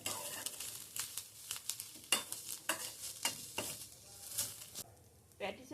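An onion and capsicum stuffing with chaat masala for egg patties is stirred in a frying pan, giving soft scraping strokes over a faint, steady sizzle, close and fairly quiet.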